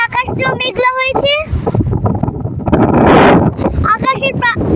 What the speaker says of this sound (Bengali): দেখুন কত বাতাস